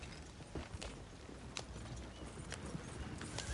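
Horse hooves clip-clop steadily on ground in Red Dead Redemption 2, a group of horses walking at a moderate distance with a soft, irregular rhythm and faint background rumble.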